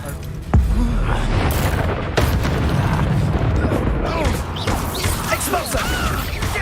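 In Hogwarts Legacy, the Incendio fire spell goes off with a deep boom and a roaring rush of flame. Crashes and in-game voices fill the busy battle behind it.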